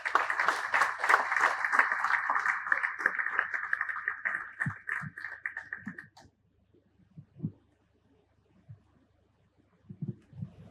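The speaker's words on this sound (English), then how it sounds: "Please give her a round of applause" Audience applause at an evening appreciation award ceremony for the Clarkson Foundation, a dense wash of clapping for about six seconds that stops abruptly, followed by scattered thumps and a few faint late claps.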